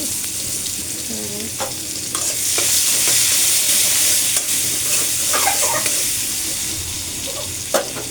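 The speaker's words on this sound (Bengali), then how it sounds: "মাছের তেল দিয়েই তরকারিটা রান্না করে ফেলতেছি মাছের থেকে অনেকটাই তেল বের হয়েছে এই যে পেঁয়াজ কুচি দিয়ে দিচ্ছি" Chopped onion sizzles loudly in oil released from fish in a hot pan, a steady close frying hiss with occasional stirring scrapes and a faint voice in the background.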